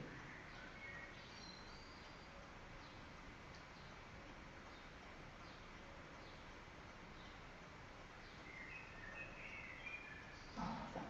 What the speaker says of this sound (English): Blackbird's been delightful, all classes, just singing all day.